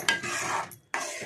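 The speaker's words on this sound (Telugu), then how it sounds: "ఒకసారి కలిపేస్తున్నాను చూడండి" Biryani masala powder being stirred into a tomato and egg curry in a pan: a close, steady scraping stir with a faint sizzle, pausing briefly before resuming.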